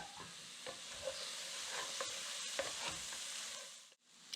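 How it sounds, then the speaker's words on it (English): Cooked pork and black dal warm-frying together in a pan, a steady close sizzle with scraping stir strokes as they are folded in, ending in a brief lull. "The pork has already been cooked, so this is just going to be a warm fry."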